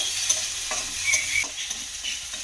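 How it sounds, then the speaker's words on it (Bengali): A garlic spice paste is sautéed over low heat, giving a steady soft sizzle and frying with light stirring scrapes throughout, and no voices. "দিয়ে এবারে এটা একটু ভালো করে কষিয়ে নেব, যাতে করে কাঁচা গন্ধটা চলে যায়।"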